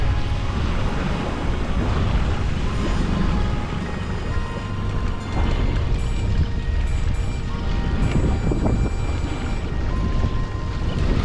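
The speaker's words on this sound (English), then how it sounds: "Boat running at 8 knots just to keep up with the school." A small aluminium tinnie motor boat runs at about 8 knots, its outboard engine droning loud and steady with a rushing wash of water and wind over the whole stretch, no talking.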